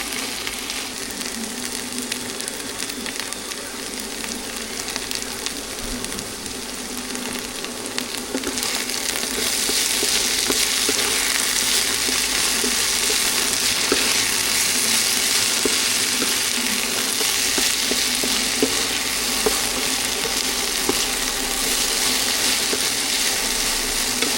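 Okra sizzles and spatters steadily in a hot pan, growing louder partway through and holding a constant crackling hiss; no talking.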